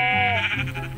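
A sheep bleats in Minecraft, a single loud wavering bleat with layered tones that fills the short moment alone.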